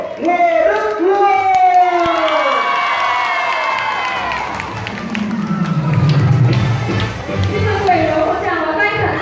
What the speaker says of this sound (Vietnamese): Con xin cộng đoàn chúc một tràng vỗ tay thật lớn